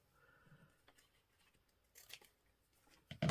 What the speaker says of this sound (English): so we'll just snip that off.